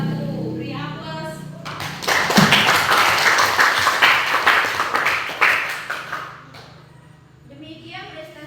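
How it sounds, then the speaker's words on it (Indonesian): A class group presentation gets a round of applause, several seconds of scattered clapping with thumps and taps from the room, framed by talking before and after. "Beri aplaus"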